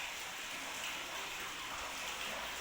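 Water trickling and splashing in from the stones of a well at a Khodiyar temple site, a steady broadband wash like light rain, constant and fairly close with no talk.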